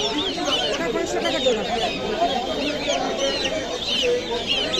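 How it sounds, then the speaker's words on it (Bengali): Chickens cluck and murmur continuously amid a busy poultry market crowd, with voices talking underneath the dense poultry chatter. "এটা কি মুরগি?"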